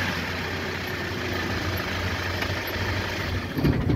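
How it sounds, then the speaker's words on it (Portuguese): A 2013 Honda HR engine idles steadily after a fuel filter change, a constant low rumble close by without misfires, revving slightly at the end. "está na marcha lenta, não está falhando nem nada"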